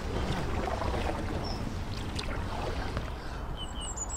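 A tandem kayak, a Riber 420 drop-stitch inflatable, paddled along the Selby Canal, with close, steady water swishes and splashes from the strokes and faint birdsong in the background.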